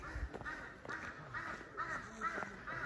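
A crow calls noisily in a dense forest of tall trees in Ayubia National Park, giving a series of harsh, repeated caws at a steady rhythm, faint and somewhat distant.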